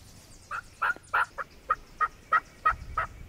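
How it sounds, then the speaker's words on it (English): A wild turkey gobbles repeatedly in the woods, a series of about ten sharp, rhythmic calls at moderate distance, with no talking. "birds gobble, pretty close"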